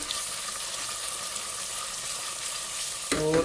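Quail frying in a pan while being stirred, a steady close sizzle and crackle throughout, with a brief clatter near the end.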